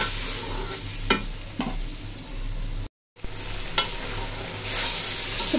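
Onion and garlic fry in a pan before dried fish is added, a continuous close sizzle with a few sharp knocks of a stirring spoon and a brief cut of silence midway.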